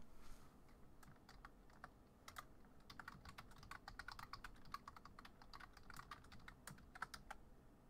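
Typing on a computer keyboard: rapid, close clicking keystrokes in uneven bursts with short pauses, quiet and alone with no talk.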